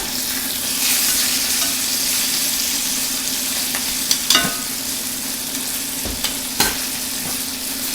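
Chicken for chicken marsala frying steadily in a pan, a continuous broadband sizzle with a faint steady hum beneath and a few sharp clicks and scrapes near the end as the pieces are turned; no talking.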